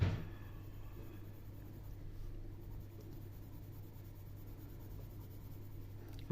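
Dry colored pencils stroke across paper while a stained-glass-style coloring page is filled in, giving a soft, continuous scratchy rasp close up and alone over a steady low hum.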